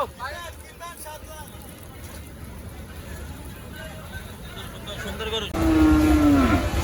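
Cattle low and moo amid a busy outdoor crowd at Gabtoli cattle market in the rain, voices chattering throughout, with a louder, closer moo near the end.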